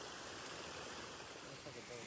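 Steady rushing water from a waterfall and stream on a creek, heard during a spring kayak camping trip, a continuous broadband wash filling the whole clip with no pauses and no talking.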